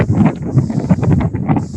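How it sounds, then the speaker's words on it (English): Heavy wind buffeting a microphone on a beach, a continuous low rumbling roar with fluttering gusts that swell and dip, loud and close, with no voices. "it's so windy"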